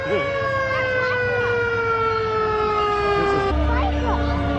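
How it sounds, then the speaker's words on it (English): A loud fire truck siren from a Christmas Santa parade sustains a slowly falling wail, then drops to a lower tone as a deep engine rumble swells close by, with people talking faintly. "There's fire truck"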